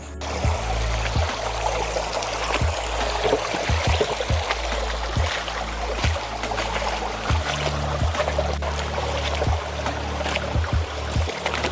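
Steady rushing and trickling water of a small creek, continuous and fairly close, with occasional low thumps and no voices.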